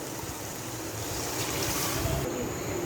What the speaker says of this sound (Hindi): मैं इसके अंदर 5 गिलास पानी के डाल देती हूँ।